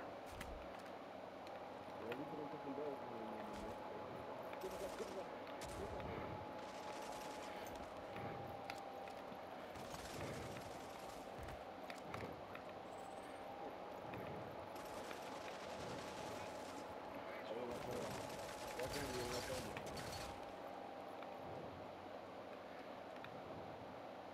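Gunfire in the online shooter Rogue Company crackles in repeated short bursts over steady background game noise, moderately loud and spread across the whole stretch.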